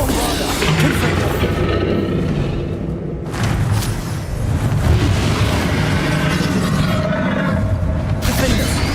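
Spell blasts from the Bombarda and Confringo curses in Hogwarts Legacy rumble in dense, continuous booming bursts with low thuds, with speech present throughout.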